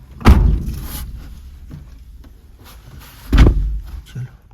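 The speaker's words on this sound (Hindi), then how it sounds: "दरवाजा कौन बंद करेगा" A car door slams shut with a hard thump near the start of a family trip to the doctor, then a second loud slam follows about three seconds later, with quieter shuffling and a small knock between them.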